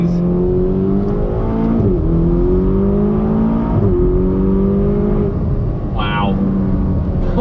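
Ferrari GTC4 Lusso T engine while driving, a loud, smooth, continuous drone from inside the car with gently rising revs and shifts, plus a brief higher whine near the end.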